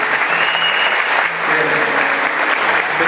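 A church congregation applauds during a communion service, producing dense, steady clapping that fills the whole stretch at an even, fairly loud level.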